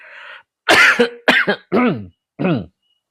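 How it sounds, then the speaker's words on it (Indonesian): Four harsh, loud coughs in quick succession, close to the microphone, preceded by a faint hum. "Aduh batuk."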